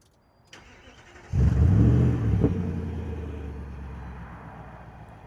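A Nissan Titan pickup with Flowmaster Flow FX mufflers, already warm, cranks briefly and fires up, the engine catching with a loud deep rumble that quickly settles into a steady, throaty idle.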